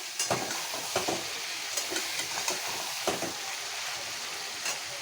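Brinjal pieces with salt, turmeric and chilli powder stirred in a pan for garlic brinjal, with repeated sharp spatula scrapes and knocks over a soft sizzle, and no talking.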